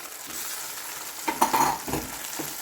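Ground masala is stirred in a frying pan, a low sizzle broken by a short burst of scraping and spatula clinks near the end; no voices.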